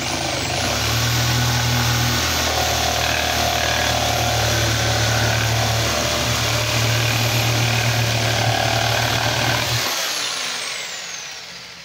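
A jigsaw fitted with a Bosch blade cutting through an 18 cm length of wood, a loud, steady buzzing motor drone that holds for about ten seconds before stopping abruptly, with no talking.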